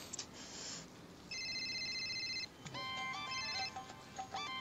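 A phone ringtone plays an electronic melody in repeated tonal phrases over a faint background hiss, with no speech.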